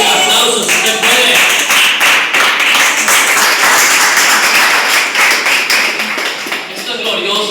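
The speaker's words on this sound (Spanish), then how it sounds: "Un aplauso si usted puede." Congregation in a church applauding, a dense patter of many hands clapping close and lively, sustained for several seconds with some voices mixed in.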